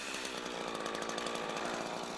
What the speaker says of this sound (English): Saw until you have enough room to push in a breaking bar.